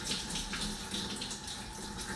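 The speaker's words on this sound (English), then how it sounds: "Give those a quick rinse." Tap water runs steadily over spring onions in a kitchen sink during a quick rinse, a close, continuous splashing gush with no talking.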